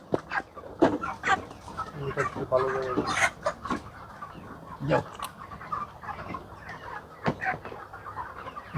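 Broiler chickens on a poultry farm cluck and squawk in repeated, busy bursts close by, with people talking now and then in the background.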